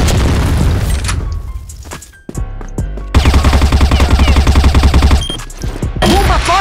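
A heavy grenade boom in the video game CrossFire, followed by dense rapid gunfire, sharp repeated bursts and crackling blasts filling the whole stretch, loud and close.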